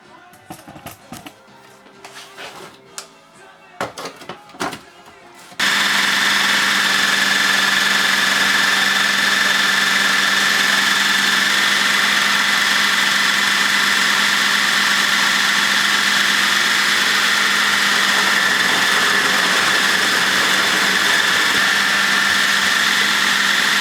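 A kitchen appliance blends homemade mixed nut butter: after a few seconds of quiet clicks and knocks, the motor switches on and runs with a loud, steady, continuous whir to the end.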